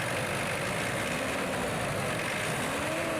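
Mitsubishi Pajero Sport Dakar diesel engine with a VGT variable geometry turbo, being revved, giving a steady, dense engine drone with a broad hiss and faint rising whine throughout, no voices.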